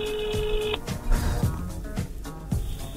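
Telephone keypad dialing tones beep in a short run at the start, over a busy studio background with bumps and knocks during a live morning radio show, with a further tone near the end.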